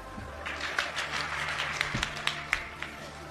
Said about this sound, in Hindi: तो आप लोगों ने तालियां बजाकर ये बताने का कष्ट किया कि आपको अब समझ में आ गया है